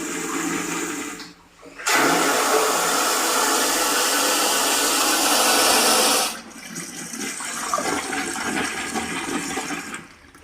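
A tankless wall-hung toilet with a motor flushes: a loud, steady rushing surge of water for several seconds, then a quieter refilling hiss, close by.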